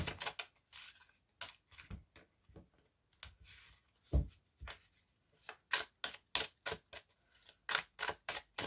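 Oracle cards being cut and handled, giving a series of crisp close clicks and light slaps of card stock, irregular at first then in a quicker run of taps.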